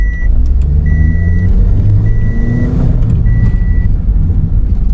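A car driven in manual sports mode, its engine droning loud and steady with rising harmonic tones as it pulls, while a faint intermittent beep sounds in the background.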